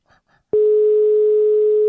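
A steady, loud telephone line tone sounds while a call to the central office is placed. It starts abruptly after two brief, faint bits of voice and then holds unbroken to the end.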